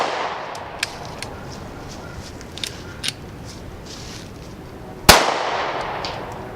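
A .40 caliber pistol, a cheap handgun that misfires and needs a second pull, fires one sharp, loud close shot near the end, preceded by a few faint clicks and handling taps.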